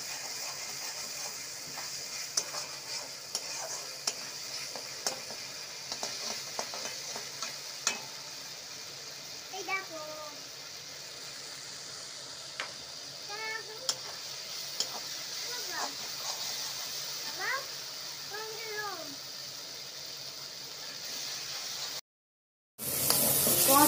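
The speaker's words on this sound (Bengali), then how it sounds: "এখানে মশলা কষানো হয়ে গিয়েছে, আর দেখো মশলা থেকে তেলও ছেড়ে দিয়ে দিয়েছে" Spice paste fries in oil in a pan for a Bengali fish curry, a soft steady sizzle with scattered ticks and light spoon taps, close and quiet, and birds chirping faintly in the background.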